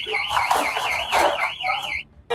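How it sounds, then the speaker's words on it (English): A bank's alarm, set off when a deer crashed through a window, wails loudly in a rising and falling electronic tone for about two seconds before briefly cutting out. "a deer crashes through a bank window and triggers an alarm"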